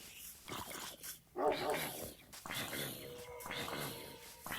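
A Minecraft wolf, the game's tame dog, yips and whines in a few short bursts against a busy game background, with a faint voice beneath at times.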